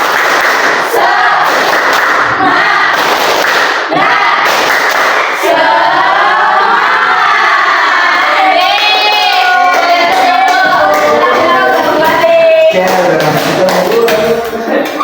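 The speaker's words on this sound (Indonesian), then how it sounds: "Tepuk semangat" Elementary classroom of fifth-grade children doing a rhythmic spirit clap, loud, close clapping and thumping in patterned bursts, with children's voices chanting and shouting along between the claps.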